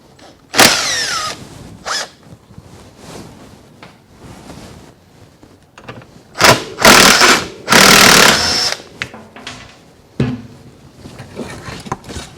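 Ratcheting and clattering metal work on the seat rail bolts of an 80 series Land Cruiser, with sharp bursts of tool noise, rattles and clunks in an uneven rhythm, loud and close, with no talk.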